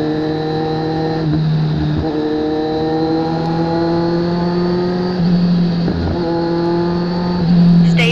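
A 2015 Kawasaki Z1000 ABS fitted with an SC Project exhaust riding at night through Quezon City, its engine droning close and loud in steady tones that shift with the throttle, while a faint navigation voice is heard.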